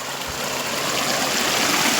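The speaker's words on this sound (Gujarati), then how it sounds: "એટલે અહીંયા પાણીનો ખળખળિયો પડશે એટલે મારો અવાજ થોડોક ઓછો આવશે" Water from a motor pump gushes steadily into an irrigation channel in an onion field, a broad, constant rushing wash close by with no talk over it.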